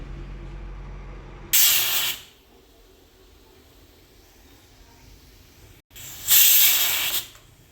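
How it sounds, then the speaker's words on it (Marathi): A pressure cooker on a gas stove cooking dal whistles twice, each a loud, close hissing blast of escaping steam lasting about a second, separated by a quiet stretch of faint kitchen background. "इथे आता 3 शिट्ट्या झाल्या, आपण कुकरचा गॅस बंद करून घेऊया."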